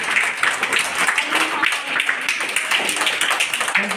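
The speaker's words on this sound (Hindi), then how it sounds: "अपने लिए ताली बजा दीजिए।" Primary school children clapping for themselves in a classroom, a dense, continuous patter of small hands with chatter mixed throughout.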